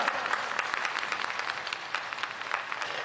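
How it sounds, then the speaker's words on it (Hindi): An audience at a Hindu religious discourse on cow devotion in Ranchi claps steadily, a dense, fairly distant patter of applause with no speech over it. "तालियां बजाओ जबरदस्त।"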